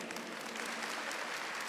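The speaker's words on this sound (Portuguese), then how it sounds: "Vamos aplaudir nosso Jesus?" Faint, steady applause from a church congregation during a sermon about intercession for sons and daughters, a dense wash of clapping that continues evenly without talk.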